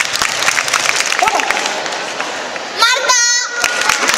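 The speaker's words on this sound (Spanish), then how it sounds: "aplauso más fuerte" Lively audience clapping at a live stage show in Valencia, a crowd applauding in a fast, loud patter, briefly interrupted near the end by a shout and a burst of other noise before the clapping resumes.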